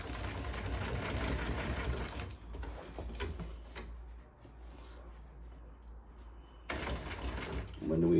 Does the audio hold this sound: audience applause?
no